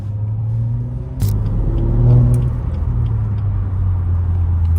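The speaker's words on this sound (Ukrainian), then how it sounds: "Тут просто такий приємний басовитий гул, бо тут, по суті, резонатор на місці" Cabin view of a BMW 340 with over 500 hp cruising through Warsaw, its exhaust holding a steady, deep bass hum with a brief click partway through, close and continuous without talk.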